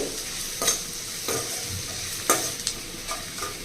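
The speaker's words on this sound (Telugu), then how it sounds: "ఇప్పుడు అల్లం వెల్లుల్లి పేస్ట్ పచ్చివాసన పోయేంత వరకు వేగించాలి" Ginger garlic paste frying in a pan: a constant low sizzle with several scraping stirs of a spoon at uneven intervals, close up and with no voices.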